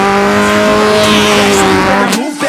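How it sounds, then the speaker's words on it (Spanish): A loud Chevrolet Corsa race car engine, heard from inside the cabin, holds a harsh steady tone before it dips briefly near the end. "Suena durísimo, durísimo, gente, aquí adentro este auto."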